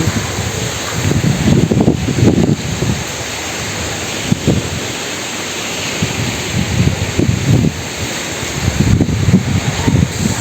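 Gusty wind at a beach resort in San Juan, Batangas buffets the microphone in loud rumbling bursts that rise and fall, with a steady hiss of surf or rustling behind.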